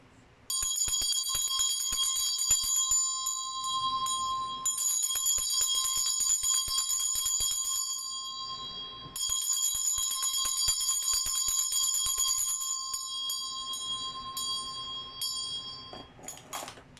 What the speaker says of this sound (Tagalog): I will be using Tibetan Bell. So, medyo maingay to.